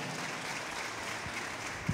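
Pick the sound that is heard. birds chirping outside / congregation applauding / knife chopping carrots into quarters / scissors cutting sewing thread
congregation applauding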